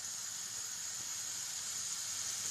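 Chicken sautéing in a pan over high heat, a steady faint sizzling hiss with no distinct pops, continuous and even throughout.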